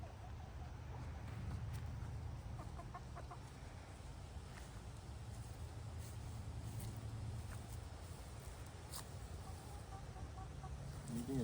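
Faint clucking from a few chickens in a backyard coop carries over a steady, noisy background, soft and intermittent throughout.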